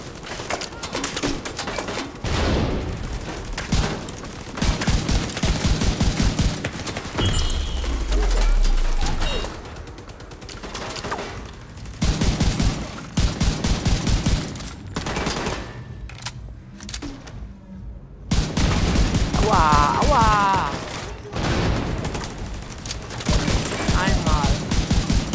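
Heavy gunfire in The Division 2 during a co-op firefight, rapid bursts of shots and loud impacts rolling almost continuously, with brief lulls between volleys.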